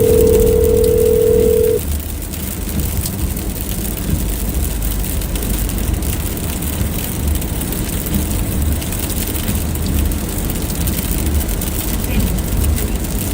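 A steady telephone dial tone sounds loud and close for under two seconds, then cuts off, leaving a low rumbling hum like a car engine under spoken voices.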